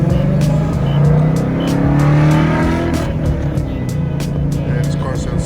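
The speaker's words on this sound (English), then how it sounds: "Man, this car sounds so good" A car's engine drones loudly and steadily from inside the cabin while it drives on the road to a Streetcar Takeover drag-racing event, with slight swells in the revs throughout.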